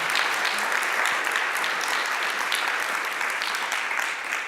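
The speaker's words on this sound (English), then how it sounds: "I think that deserves an applause" An audience applauds steadily and loudly, dense continuous clapping that holds for several seconds with only a slight fade at the end.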